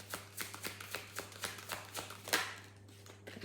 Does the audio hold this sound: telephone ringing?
no